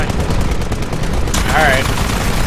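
In Titanfall, an automated turret fires fast repeated shots in a steady rattling stream for the first second or so, amid loud battle noise and other effects.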